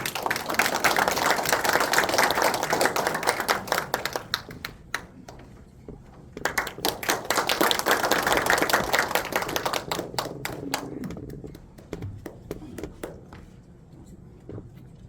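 Audience applause at a Korean speaking event as a speaker is invited to the podium: two swells of dense clapping, each thinning into scattered individual claps, with the last few seconds sparse and quieter.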